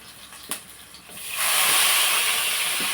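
Ginger garlic paste hits hot oil for a taro-root curry: a few soft taps, then a sudden loud, sustained sizzle that hisses steadily to the end.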